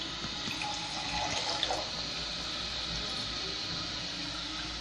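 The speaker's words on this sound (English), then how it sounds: "so it's filling up really fast." Water rushes steadily into a 2012 Kohler Wellworth toilet tank as it refills, a close, continuous hissing flow that holds even in level throughout with no talking.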